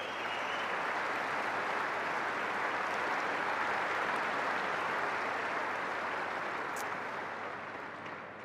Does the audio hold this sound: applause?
yes